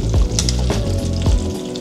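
Chili peppers hit a pan of chicken pork adobo and sizzle loudly and steadily, frying close up with a few stirring knocks underneath.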